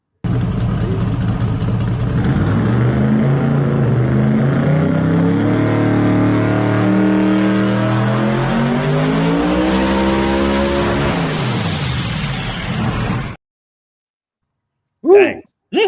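A powerful twin-turbo car engine on a dyno revs hard and sustained at high RPM, rising and falling loudly for several seconds before cutting off abruptly.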